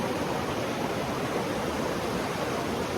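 A river runs past a campsite at Kennedy Meadows, a steady broadband rush of flowing water that stays close and constant without pause, with no voices over it.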